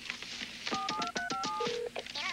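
A telephone is dialed in a Queen's call to an adverb game show: a quick run of paired DTMF keypad tones, about a dozen beeps in a steady rhythm, then a short tone, with faint background sound throughout.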